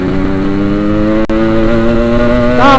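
A Yamaha RX-King motorcycle engine holding a steady, buzzing two-stroke drone close up, with one brief dip before the pitch rises at the very end.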